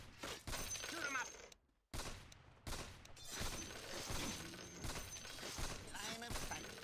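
Gunfire and shattering bursts in the Dota 2 Arcade custom game Heros Defensionis, dense and continuous with a brief drop-out, mixed with game effects and voices talking over it.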